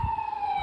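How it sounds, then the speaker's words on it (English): An ambulance siren sounds from a road near a beach as the vehicle passes, heard as a brief, steady, clear wailing tone over faint background noise. "It's the ambulance."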